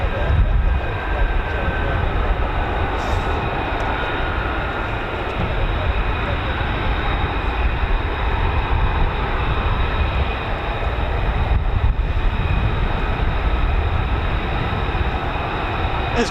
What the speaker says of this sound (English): There's quite a few F-35Bs here, man.